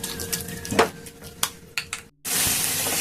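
Carrot halwa stirred in a pan on a low flame, scraping and clinking at first, then a steady soft sizzle after a short gap.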